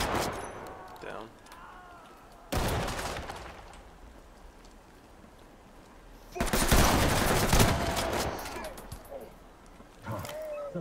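Gunfire erupts in the tactical shooter Ready or Not: a loud burst early on, a longer sustained volley later and a final short burst, with quieter stretches of ambience and faint voices between.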